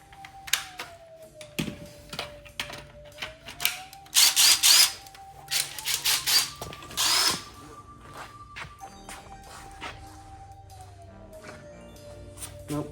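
An impact wrench snugs down lug nuts on a small four-wheeler with a Predator 212 engine, giving several short, loud hammering bursts between pauses and nearby clanking, with no talking.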